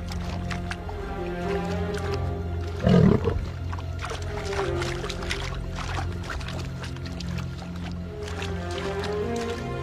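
A wandering lion in the watery grassland of the Okavango Delta roars low and rumbling over a steady broad background, with a brief louder splash-like burst near the start.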